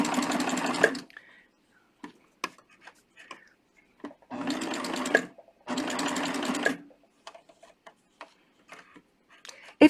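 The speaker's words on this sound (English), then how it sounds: "I'm just going to stitch all the way around." A serger sewing machine stitches around a band hem in three loud bursts of rapid whirring, broken by quiet pauses filled with soft clicks and handling noises.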